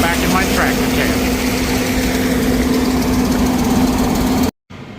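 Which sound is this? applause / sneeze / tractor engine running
tractor engine running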